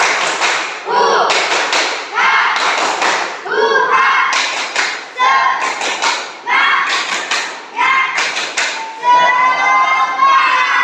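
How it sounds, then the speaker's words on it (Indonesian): A classroom of children performs a rhythmic spirit clap chant, groups of sharp claps and thumps alternating with shouted chanting voices in a repeating pattern, loud and close throughout. "Tepuk semangat."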